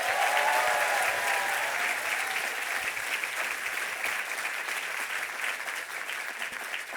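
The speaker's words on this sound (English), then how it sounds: "Give them the biggest round of applause" A crowd at the opening ceremony of the Judkins Park and Mercer Island light rail stations applauds bridge workers, a dense, sustained wash of clapping that stays loud and slowly eases.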